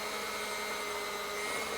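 An electric whisk creams butter and icing sugar in a bowl for white chocolate macadamia cupcakes, a steady, fairly quiet motor whir holding an even pitch throughout.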